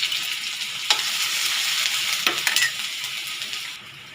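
Ginger, garlic and green chili fry in a hot pan, a steady close sizzle broken by a few sharp scrapes of stirring, with no voices.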